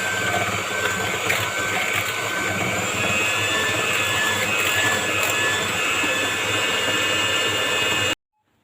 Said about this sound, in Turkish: Mikser bölümünü uzun çekmek istemedim. Çok gürültü yaptığı için rahatsızlık vermek istemedim.